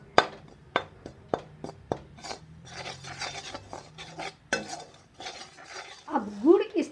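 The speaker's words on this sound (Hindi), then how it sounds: "अब बचे हुए घी में हम आटा डाल देंगे और इसे धीमी आंच पर पका लेंगे ताकि ये सोंधा हो जाए।" Wheat flour roasts in ghee over a low flame while a spoon scrapes and stirs it in a pan, making a series of sharp clinks followed by soft rasping strokes and a faint sizzle.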